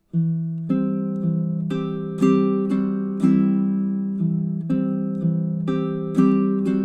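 Baritone ukulele plucked fingerstyle, notes ringing one after another in a steady rhythm, each decaying before the next, played alone with no voices.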